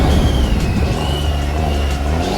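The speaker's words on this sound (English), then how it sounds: "That turbo sounds silly" A turbocharged BMW M235i, rebuilt after damage, runs with a loud, steady, close-up engine rumble and a thin whistle above it, holding level throughout with no talking.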